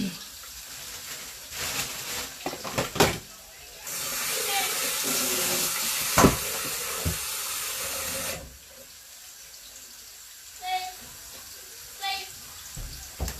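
Onion browning in a pan gives a steady, bright sizzling hiss that rises suddenly, holds for several seconds, then drops away, with brief clatters and voices around it.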